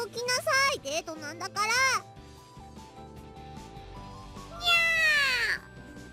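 Cat meowing in the visual novel The Fruit of Grisaia, with several loud, drawn-out meows at the start and another long wavering meow near the end, separated by quieter game music.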